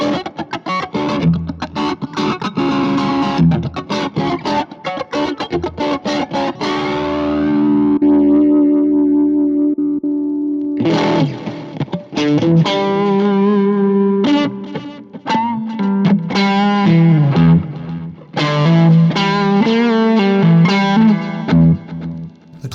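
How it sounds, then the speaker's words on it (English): Electric guitar through a pedalboard with a Boss Blues Driver overdrive and a Boss IR-2 amp and cabinet simulator, playing gritty, crunchy chords and riffs with sustained ringing notes, loud and continuous with brief pauses between phrases. "if I want to add a little bit more dirt to that, I can kick the blues driver on as well"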